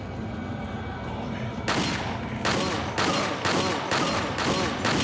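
Rapid bursts of gunfire from the video game Resident Evil 4 crack out loud and close in a quick repeating series, layered over a dense, busy game soundscape with no talk over them.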